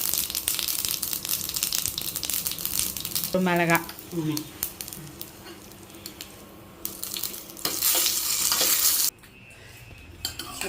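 Spices and a chilli sizzle steadily in oil in a pan, tempering for rasam, with scraping and stirring sounds, a brief voice rising over it partway through before the frying continues.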